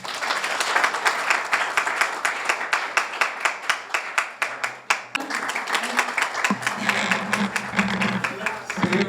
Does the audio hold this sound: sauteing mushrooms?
no